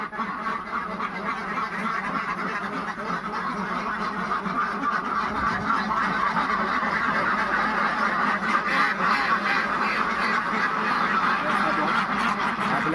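A flock of ducks quacks and chatters steadily as they are let out of their enclosure on a small egg-laying farm, with a dense, continuous overlapping clamor that stays loud throughout.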